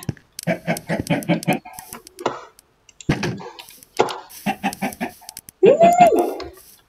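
Chickens in the video game Minecraft cluck in quick rhythmic bursts, loud and close, with several runs of clucks separated by short gaps and a longer squawk near the end.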